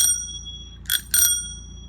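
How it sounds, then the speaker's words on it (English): A heavy, inexpensive black bicycle bell mounted on a walker is flicked to ring: one ring fading out, then two sharp, close dings in quick succession. "And I really like this bell."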